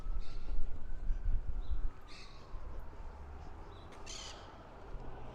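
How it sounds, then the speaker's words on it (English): On a Brooklyn residential street, parrots call from the trees: a few short, faint squawks at intervals over low, steady traffic rumble. "You can hear the parrots."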